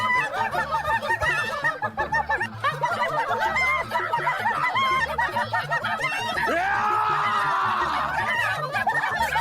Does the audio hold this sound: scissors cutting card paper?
no